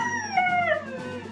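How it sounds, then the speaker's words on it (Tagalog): A dog lets out a drawn-out, wavering howl whose rising and falling pitch resembles the words "I love you"; the call is clear and close, carrying steadily through the short moment with no talking over it. "Nagkataon lang yung na-pronounce na word ng aso is parang I love you."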